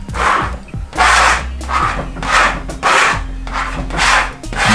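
A steel trowel spreads and polishes black-and-silver Venetian plaster on a wall, producing rhythmic rasping scrapes in regular strokes roughly every second, close and fairly loud.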